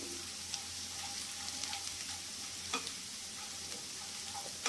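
Finely chopped garlic fries in a pan with a soft, continuous sizzle, broken by occasional light ticks and scrapes of stirring.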